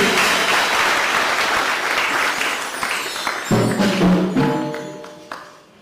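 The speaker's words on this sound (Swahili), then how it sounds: "Piga Yesu makofi mazuri." A church congregation breaks into loud, sustained applause that fades out toward the end, with a burst of cheering and voices rising within it.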